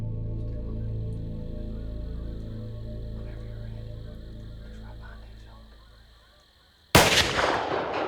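A rifle fires during a youth deer hunt in Virginia, with a single sudden, loud, close shot that breaks a long, quiet stretch of low background hum.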